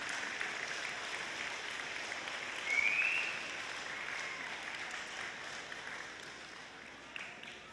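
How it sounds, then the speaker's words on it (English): Audience applause at a college graduation ceremony, a steady wash of many hands clapping in a large hall, fairly distant and even, briefly swelling, with no clear talking. "give all the people that helped you a round of applause"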